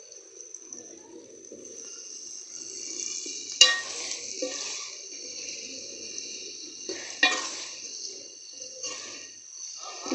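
Potatoes fry in a pan with a soft, fairly quiet sizzle, broken by a few sharp clinks and scrapes of a spoon against the metal as they are turned.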